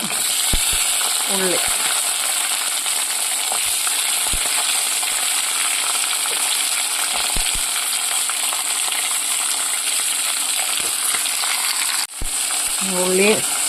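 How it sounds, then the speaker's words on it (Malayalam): Onion, curry leaves and two green chillies sautéing in hot oil for a Kerala ulli theeyal, a steady dense sizzle running throughout with occasional soft scrapes of a stirring spoon and a brief clatter near the end. "ഉള്ളി, കരിയാപ്പില, നമ്മൾ 2 പച്ചമുളക് ഇട്ട് കൊടുത്തിട്ടുണ്ട്. നന്നായിട്ടൊന്ന് വഴറ്റിയെടുക്കാം."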